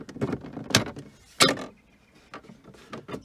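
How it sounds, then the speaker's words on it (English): Plastic instrument binnacle housing in a Seat Ibiza is pressed and clipped back into the dashboard, a few sharp creaks and snapping clicks spaced irregularly, close by, with no talk. "pull the creaky plastic"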